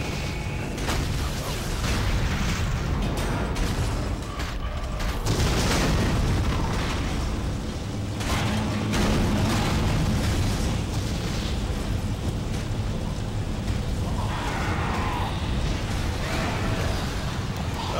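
A ship blows apart in Dead Space, a heavy booming explosion that rolls into a long, loud rumble with crackling debris and mechanical groans fading over many seconds.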